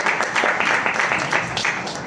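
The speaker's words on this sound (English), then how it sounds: "A big clap for Pushpa." Applause from a church congregation for Pushpa, steady broadband clapping from a crowd filling the room, fairly loud throughout with no clear pauses.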